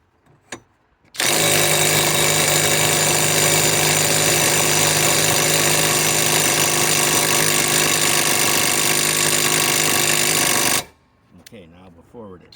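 A Flex FX1451 mid-torque impact wrench on a 3.5 stacked lithium battery, set to speed 3, removing a hitch ball: a loud, steady hammering rattle that runs for about ten seconds and then cuts off, with brief quiet sounds before and after.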